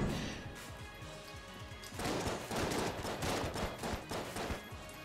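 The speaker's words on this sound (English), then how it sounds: "shotguns." Shotguns blast during Enter the Gungeon gameplay in a dense, rapid series of game gunfire bursts that turn heavier and more continuous about halfway through, with no voices over them.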